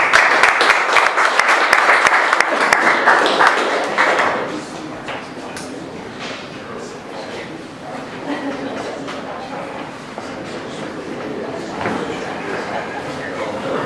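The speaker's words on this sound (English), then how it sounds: "please give a warm round of applause for Lou with TorchFi" A crowd at a startup event applauds Lou of TorchFi, a loud wash of clapping for about four seconds that quickly dies away, leaving a quieter room with murmuring and faint shuffling.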